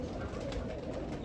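A large show pigeon coos softly and steadily, a low, continuous murmur at some distance with no other clear sounds.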